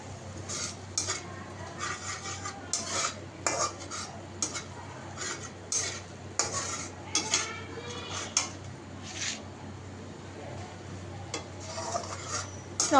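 Spices with salt, turmeric and red chili powder being fried in a pan while a spatula repeatedly stirs and scrapes, producing bursts of clattering and rubbing over a steady low background, no talk.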